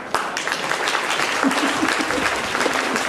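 An audience claps at a school event at MKM LPS Pongil, with dense, steady applause filling the whole stretch at close range and a few voices faintly mixed in.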